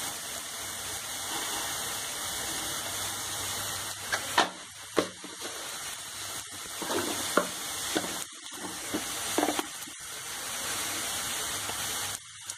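Masala spices fry in a pan with a low, steady sizzle for a stuffed capsicum dish, punctuated by intermittent scraping stirs of a spoon against the pan, all fairly quiet with no talking.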